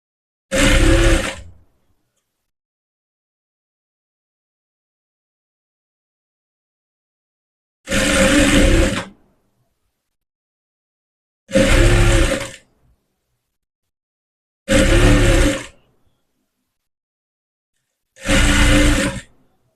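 A sewing machine stitches a blouse hem in five separate loud bursts of rapid whirring, each a second or two long, with silence between them.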